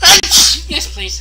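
A sharp sneeze bursts out close by at the start, followed by a person speaking briefly during a tabletop game session.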